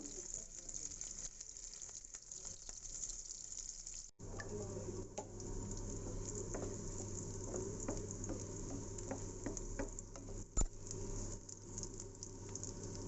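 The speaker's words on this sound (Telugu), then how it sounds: "ఈ కాకరకాయలని కొంచెం రంగు మారేంత వరకు వేయించుకోవాలి" Small bitter gourds frying in a pan until they change colour, a continuous close sizzle with crackling pops and spatters over a low steady hum, no talk.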